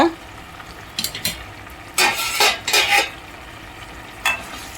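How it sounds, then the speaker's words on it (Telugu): A pan of taro root curry bubbles and sizzles softly while a spoon scrapes and stirs in several short bursts, close by. "చూడండి, ఇలా చక్కగా ఉడికిపోతుంది చామదుంపల కూర"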